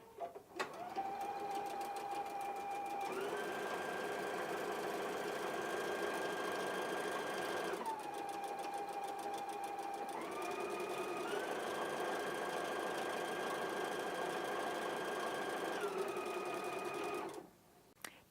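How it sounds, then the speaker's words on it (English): A Husqvarna Viking Epic sewing machine stitches a buttonhole in one continuous run, its motor whirring loudly and steadily with shifts in pitch as the stitching changes direction, then stopping abruptly near the end. "you can use the Start-Stop button to stitch the entire buttonhole"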